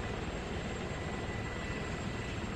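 An Apache attack helicopter in the military game Arma 3 gives a continuous low engine and rotor drone, steady and moderately loud with no voices.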